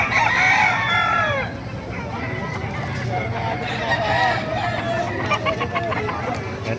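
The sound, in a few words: chickens and rooster at a poultry market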